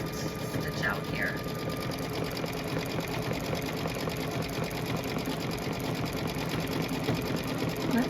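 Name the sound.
embroidery sewing machine stitching lettering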